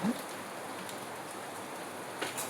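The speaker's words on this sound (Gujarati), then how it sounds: "વરસાદ બહુ આવે છે" Steady, dense rainfall in Surat hisses across the whole clip, a heavy downpour drumming on surfaces with no voices over it.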